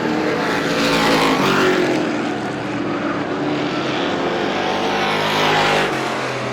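Outlaw race cars run at Star Speedway during a memorial feature race, their engines a loud, continuous roar that swells and fades slightly as the field passes, with no voices.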